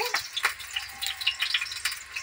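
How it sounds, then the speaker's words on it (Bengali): Cooking oil is poured into a hot kadai wok before frying fish, giving a soft, steady hiss and crackle with small liquid splashes throughout, fairly quiet and close, with no talking. "কড়াই এখানে আমার গরম হয়ে গেছে, এবার এটার মধ্যে তেল দিয়ে দিচ্ছি"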